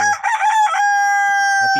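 A rooster crows once, loud and close, a long drawn-out call with a clear harmonic tone that trails off, followed by a few soft clucks from the chickens.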